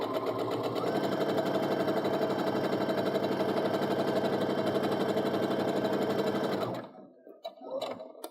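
A sewing machine stitches a quilt seam at a steady, fast, continuous whir for about six seconds, then stops abruptly, leaving faint handling noises; no one speaks.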